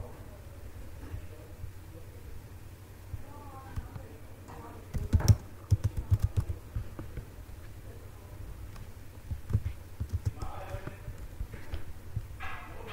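Typing on a computer keyboard while entering data in an Excel spreadsheet: soft, irregular clusters of key taps, fairly quiet, with a voice talking in between.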